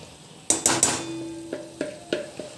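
Paneer goes into a pan of sautéed spices amid a few sharp metallic clanks of a utensil against the pan, three quick knocks followed by several lighter, ringing taps, close by and without talk.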